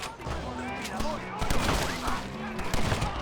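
Shotgun blasts in the Red Dead Redemption video game, several sharp booming shots in quick succession amid game music and effects, with someone talking over the action.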